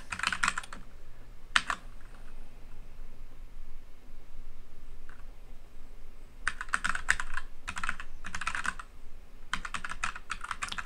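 Keys clatter on a computer keyboard as someone types into a web form, in short bursts separated by pauses, with the later bursts longer and busier.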